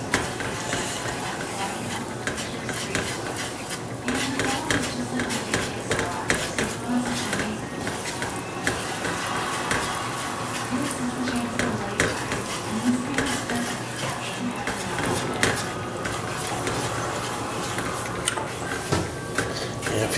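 A dark roux for chicken and sausage gumbo stirred in a pot, with continuous scraping and clinking of the utensil against the metal over a soft sizzle. A person's voice can be heard faintly now and then.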